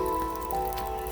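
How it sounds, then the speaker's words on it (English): Rain patters steadily outdoors as someone steps out barefoot, a dense continuous spatter with a faint tonal hum underneath. "And I'm stepping out here in the rain with my bare feet"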